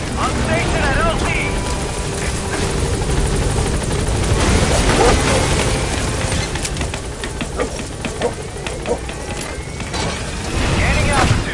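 A video game helicopter drones loudly and steadily throughout with a dense rotor roar, while radio chatter and voices talk over it.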